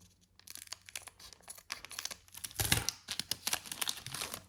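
A Dragon Ball Super BT20 card booster pack being torn open close up: a short tear, then a run of sharp crinkling and crackling foil as the wrapper is pulled apart and handled, with no talking.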